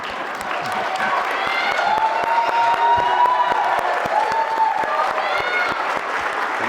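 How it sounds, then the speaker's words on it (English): A town hall crowd in Anchorage applauds congressional candidates, with a wash of clapping mixed with cheering, whoops and voices calling out, sustained at a lively level throughout. "You can applaud all you want now."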